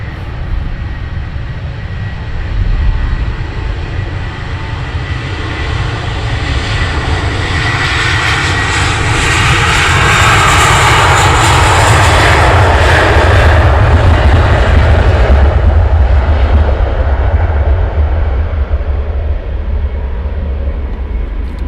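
An EasyJet jet airliner departing Luton Airport in the early morning, its engine roar building from a distant rumble to a loud, sustained thunder at the midpoint and then slowly easing as it climbs away, with no voices.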